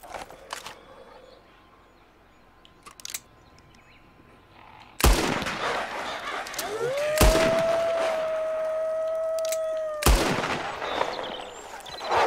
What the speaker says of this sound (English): Maybe I can try to scare them away by shooting in the air.